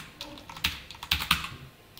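Computer keyboard keys clatter in a short, irregular burst of close, crisp taps, including a quick shortcut press, with no talking.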